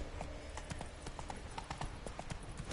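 Horse hooves clip-clopping at a quick, steady pace in The Witcher 3 on Death March difficulty, a continuous run of sharp hoof strikes with background game ambience.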